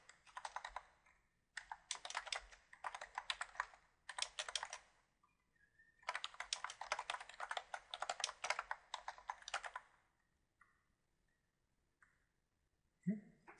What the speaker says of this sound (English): So what I want to do is go ahead and type in some text.